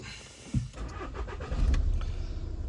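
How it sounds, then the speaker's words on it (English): A 2010 Volkswagen Tiguan 2.0 TDI diesel engine with a P0544 fault cranks and catches, settling into a steady nearby idle with no talk over it. "Engine started."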